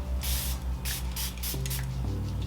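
A makeup setting spray mists in several quick pumps, each a short airy hiss close by, fired in an uneven rhythm with no talk.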